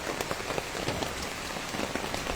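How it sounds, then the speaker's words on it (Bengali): Heavy rain pouring down steadily, a dense hiss with scattered sharper drops hitting nearby surfaces. "প্রচুর বৃষ্টি হচ্ছে তো আমরা একটু নড়তে বাধ্য হলাম"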